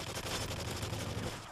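Dense, continuous gunfire from rapid automatic weapons in a Call of Duty: Modern Warfare 3 multiplayer Domination match, with shots blurring into a steady loud rattle throughout.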